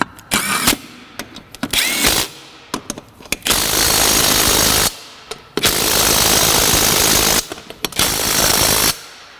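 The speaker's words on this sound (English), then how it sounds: "Torque stick, 80 foot-pounds." Bursts of an impact wrench fitted with an 80 foot-pound torque stick hammer loudly on wheel lug nuts of a 1998 Mazda 626, with several short rattling pulses followed by long sustained runs and brief pauses between.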